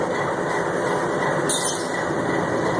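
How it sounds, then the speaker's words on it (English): Steady, smooth mechanical running of the air compressor on a big old CN GE locomotive, a continuous loud drone held close throughout, with a brief brighter hiss surge partway through. "Of course, that's the compressor"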